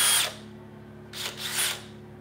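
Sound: power drill

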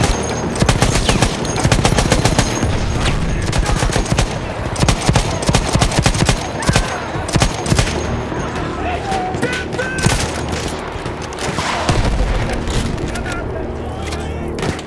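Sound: machine gun fire in Battlefield 1 video game

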